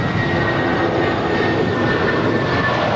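A United airliner at Los Angeles LAX, cleared for a full-length takeoff from runway 25 right, gives a steady, broad jet engine roar that holds constant throughout, with no talk over it.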